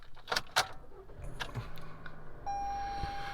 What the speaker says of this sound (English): Get the key out of my pocket here. And again, we got that switchblade key, so it just flips open.